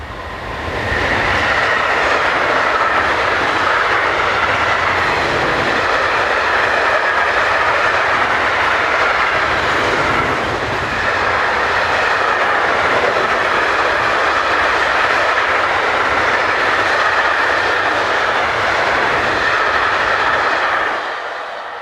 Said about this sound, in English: Another Railpool loco, and again hired to BLS Cargo, heads north.